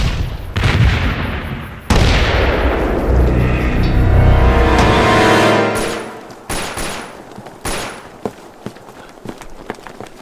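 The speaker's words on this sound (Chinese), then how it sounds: "好像是手榴弹爆炸，枪声也是那边传来的" Gunfire and grenade explosions from a Chinese war drama about a Heilongjiang battle against the Japanese army: a long, loud roaring blast, then scattered sharp shots and bangs that thin out toward the end.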